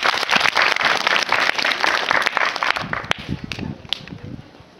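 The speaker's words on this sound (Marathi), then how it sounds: "वा वा, टाळ्या वाजव." A burst of clapping from children at a Zilla Parishad primary school after a correct quiz answer, dense for a few seconds and then dwindling to scattered claps, with a voice briefly heard as it dies down.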